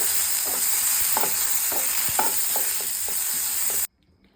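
Vegetables frying in a pan with a pinch of salt and chilli powder for a vegetable ramen bowl, a steady loud sizzle with repeated scraping stir strokes, close and continuous until it cuts off abruptly near the end.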